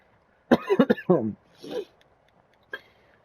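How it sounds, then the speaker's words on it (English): Close, sharp coughs in a quick cluster, then a softer throat-clearing sound and a final brief cough in a quiet room. "I do apologize for my little coughing there."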